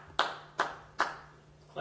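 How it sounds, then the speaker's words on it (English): A few separate hand claps at a slow, uneven pace near a baby at home, three sharp claps then a fourth starting at the end, with a faint steady hum beneath. "Can you clap your hands?"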